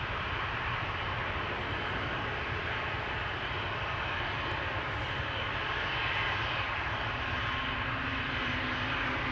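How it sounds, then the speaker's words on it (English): Loud, steady roar of jet airliner engines spooling up close by at Amsterdam Schiphol Airport, a broad continuous rush with a faint rising tone emerging toward the end. "Whale sounds indicating spooling up. Change in RPM."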